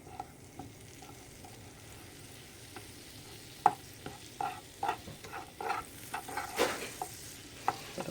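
Pav bhaji masala being stirred into butter on a griddle, with a faint sizzle under a series of close spatula scrapes and clicks that grow busier and louder toward the end.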